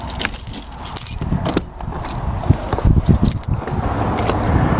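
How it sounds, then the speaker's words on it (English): Keys jangle repeatedly in close, bright bursts while being worked at the lock of a Tiffin Phaeton RV door, with soft handling noises in between. "The round key that says Phaeton on it will unlock the lower lock."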